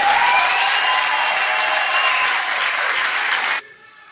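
Loud, dense applause from an audience welcoming Dr. Cornel West at a Black History and Unity Awareness celebration in Passaic County, New Jersey, sustained for about three and a half seconds before cutting off abruptly.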